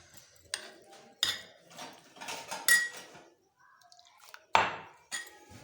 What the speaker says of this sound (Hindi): चम्मच की मदद से हम अपनी सूजी को अच्छी तरह से दूध में मिक्स कर लेते हैं।